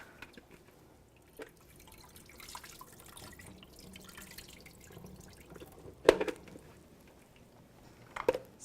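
Quiet water from a kitchen tap while lettuce is rinsed, with soft splashing and drips and a couple of sharper wet knocks near the end.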